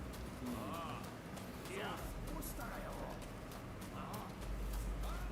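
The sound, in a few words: horse galloping in Rise of the Ronin video game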